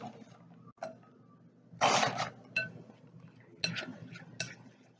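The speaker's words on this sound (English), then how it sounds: "I'm giving it a stir." Thick pumpkin-blueberry muffin batter being stirred in a bowl, with a few short scraping and clinking strokes of the spoon against the bowl, close and moderately quiet.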